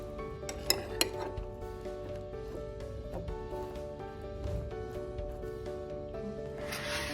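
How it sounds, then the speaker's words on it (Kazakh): Eggplant salad being stirred in a bowl with red paprika, soy sauce and a spoonful of olive oil, giving soft steady clinks and scrapes of a utensil against dishware with a couple of sharper knocks near the start. "Барлығын жақсылап араластырамыз."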